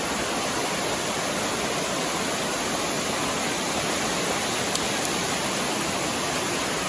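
Appalachian mountain creek water rushing steadily over rocks, a constant close hiss of flowing water without pauses, no talking.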